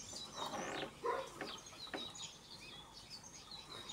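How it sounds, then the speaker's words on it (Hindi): Small birds chirp and tweet outdoors while pecking at scattered grain in a Himachal Pradesh village, light scattered calls at moderate distance. "बाहर चिड़ियाँ भी आ गई थी। दाना डाल दिए मैंने"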